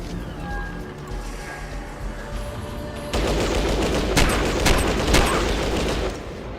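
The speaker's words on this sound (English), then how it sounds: "someone did shoot rockets at me, you bastards. You tried to blow me up with a fucking RPG!" RPG rockets fired at the player in Fallout Tactics, a quiet stretch breaking at about three seconds into a loud, dense burst of explosive gunfire and blasts that lasts several seconds before easing off.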